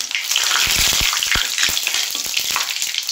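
Two dried red chillies, half a spoon of white cumin and a bay leaf torn in two sizzle steadily in hot oil, a close, loud, continuous hiss broken by a few sharp pops and crackles.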